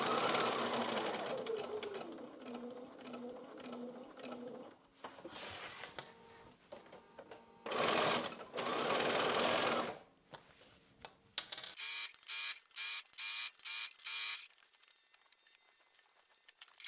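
A sewing machine stitches binding onto a quilt, running in long steady bursts and then in short rapid start-stop pulses, close and loud, with no one talking.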